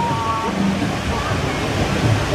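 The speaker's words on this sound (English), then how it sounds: "because the waterfalls are back, we'll do it" Waterfalls at the Congo River Rapids ride at Alton Towers, a steady loud rushing splash of falling water with people talking faintly underneath.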